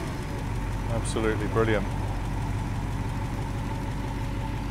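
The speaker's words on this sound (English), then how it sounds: "He's gonna fire up the engine just to here." A Triumph Stag V8 idles steadily at close range, a low even engine drone running throughout, with a man's brief spoken remark over it.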